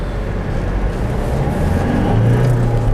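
Toyota Innova Crysta facelift 2021 diesel engine pulling hard in power mode, a loud continuous cabin drone that rises in pitch as it accelerates.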